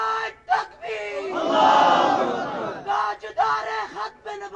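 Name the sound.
crowd chanting Allahu Akbar in response to slogan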